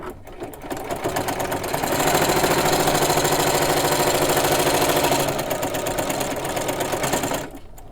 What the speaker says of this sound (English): at my sewing machine,